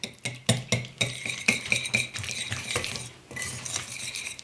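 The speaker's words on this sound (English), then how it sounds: "Mix that around a little bit." Pumpkin streusel muffin batter with softened butter being stirred in a bowl, a spoon clinking and scraping against the sides in quick, irregular strokes, close and fairly quiet, with no talking.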